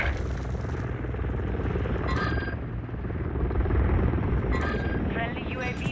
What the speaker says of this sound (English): Friendly Overwatch Helo inbound.